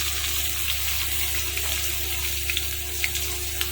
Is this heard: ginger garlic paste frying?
yes